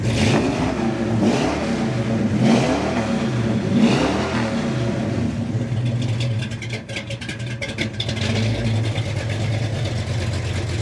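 A 1970 Ford Mustang Mach 1 with a shaker hood, its engine revving loud and close in several rising and falling bursts before it settles into a rough, lumpy idle.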